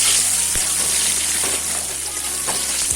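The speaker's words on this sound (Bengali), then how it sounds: "এবার আমি ভালো করে ভেজে নেব।" Potatoes seasoned with turmeric, salt and Kashmiri chili powder sizzle and fry steadily in a hot pan while a mutton curry is being prepared, a continuous close crackle with a few brief stirring clicks and no talking.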